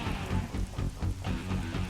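Rain falls in a mission of the video game Troubleshooter: Abandoned Children, a soft, steady patter with faint pulsing swells under game music for a couple of seconds, no voices.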